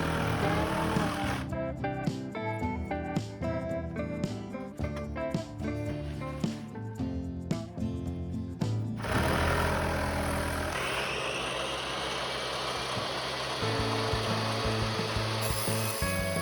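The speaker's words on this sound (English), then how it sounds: "I'm cutting the pins off with the sawzall and saving the piece for later." Reciprocating saw cutting the pins off BuildBlock ICF foam forms: a rapid, rough buzzing cut running steadily at close range for several seconds, then shifting to a smoother, sustained motor whine.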